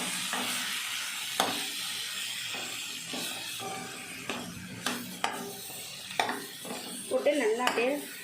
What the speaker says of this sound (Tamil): போட்டு நல்லா அப்படியே வணக்கி விட்டுக்குவோம்